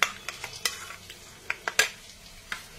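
A spoon stirs onion masala gravy in a pan. Irregular scraping clacks and taps sound close up over a faint simmering sizzle, with no one talking.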